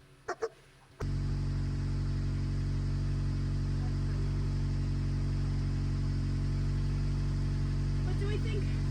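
An old vehicle called Bertha idles in deep snow after a couple of faint knocks, then settles into a steady low, rumbling idle that holds on evenly.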